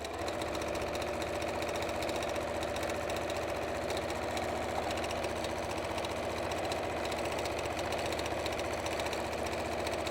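A sewing machine runs continuously, stitching a quarter-inch seam through many layers of frayed-edge quilt fabric; a steady mechanical hum holds at an even level from start to finish, with no talking.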